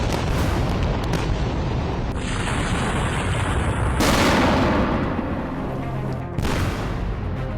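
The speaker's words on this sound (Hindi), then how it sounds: "अभी भी आवाजें मिसाइल हमलों की आ रही हैं।" Missile strikes in southern Lebanon, dense rumbling blasts and booms that swell and fade, with a broad roar and sharp onsets, loud and continuous with no talk.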